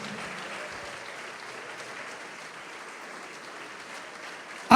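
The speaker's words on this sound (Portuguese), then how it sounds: "Pode aplaudir Jesus e glorificar" Steady applause from a congregation at a church conference, sustained and even throughout, with a sharp loud burst right at the end.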